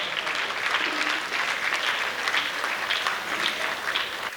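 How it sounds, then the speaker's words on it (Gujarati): A crowd gives a standing ovation for the guest of honour at an arangetram. Dense, sustained clapping fills the hall evenly for over four seconds, loud and close, with no talking on top. "ફરી એકવાર સ્ટેન્ડિંગ ઓવેશન પોતાની જગ્યા પર ઊભા થઈ જોરદાર તાળીઓથી"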